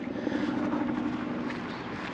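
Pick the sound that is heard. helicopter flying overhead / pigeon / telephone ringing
helicopter flying overhead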